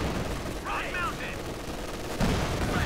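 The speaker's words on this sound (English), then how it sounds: "Panzer's moving forward, there, shots going off." Gunfire from a Company of Heroes 2 battle cracks in rapid bursts and volleys under a steady battle din, with a commentator talking over it.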